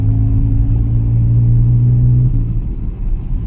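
A car pulls away after the clutch is let out suddenly, a loud close engine drone with steady low hum that shifts and drops off as it moves off, no voices.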